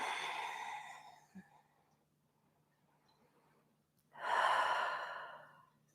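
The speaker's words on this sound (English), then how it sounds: "Breathing into your tum-tum." Deep belly breaths during a yoga flow, a long close exhale that fades out, a quiet pause, then a strong, full inhale, heard alone without talk.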